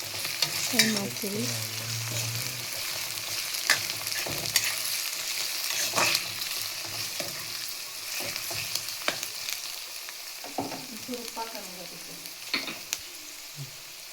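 Soaked poha (avalakki) frying in a pan for vegetable avalakki, a soft continuous sizzle with repeated scraping stirs and occasional clinks, close and moderately quiet.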